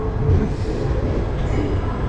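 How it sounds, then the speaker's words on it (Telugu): The East Coast Express, hauled by WAP-9 electric locomotives, gives a continuous low rumble of moving carriages, close and fairly loud, with a steady rolling roar and no voices. "east Coast express with lab 9 locomotives అయితే ఉంది"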